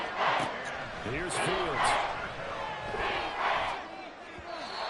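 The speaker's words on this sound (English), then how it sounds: "this crowd is making an impact right now" A stadium crowd at a football game roars in loud swelling waves under a play-by-play commentator speaking over them.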